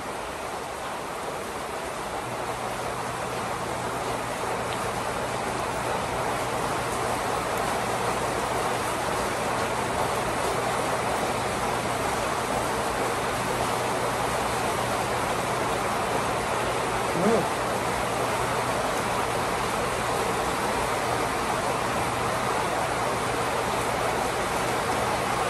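Heavy rain pours steadily at midnight, a dense, even hiss of downpour lasting throughout with a faint low hum beneath and one brief knock partway through.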